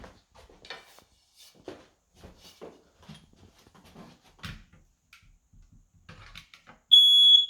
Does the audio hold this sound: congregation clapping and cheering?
no